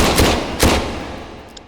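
Two loud handgun shots from a Beretta PX4 fired in the video game H3VR, spaced about half a second apart, each with a sharp crack and decaying echo, followed by a faint metallic click.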